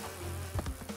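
Bees buzzing from a beehive in the Crash Bandicoot 2 video game make a short, droning insect hum with a few wavering pulses, fairly faint and with no talk.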